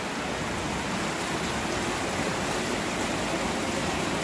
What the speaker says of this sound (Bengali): সত্যি এত জোরে বৃষ্টি হচ্ছে